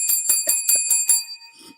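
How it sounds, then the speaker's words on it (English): A bell nicknamed the Lambo bell rings six times in a quick, steady sequence, each strike bright and metallic with a sustained ringing tone, then fades into a brief softer rustle. "this is the Lambo bell, everybody"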